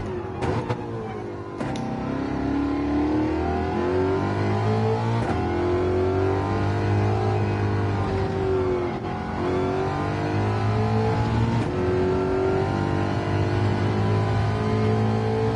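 Ford Mustang group 4 race car in Gran Turismo 7, its engine droning steadily and loudly throughout with rising and falling pitch as it revs and shifts, a brief blip near the start, no talking.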